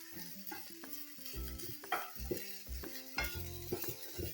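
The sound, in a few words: chopped vegetables stir-frying on high flame for momos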